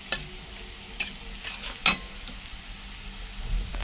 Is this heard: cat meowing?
no